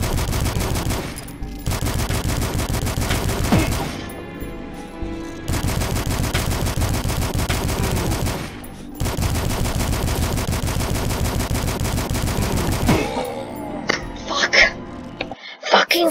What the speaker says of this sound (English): Assault rifle, that's good.